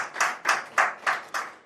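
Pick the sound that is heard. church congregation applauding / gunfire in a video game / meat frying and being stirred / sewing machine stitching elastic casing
church congregation applauding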